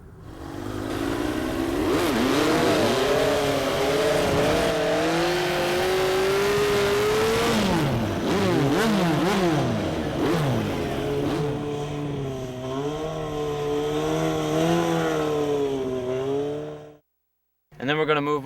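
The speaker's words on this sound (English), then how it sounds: "Here's how I clutch up a wheelie." A stunt motorcycle revs hard and climbs through the gears as the rider clutches up a wheelie, engine pitch rising and falling in loud sweeping surges before cutting out briefly near the end.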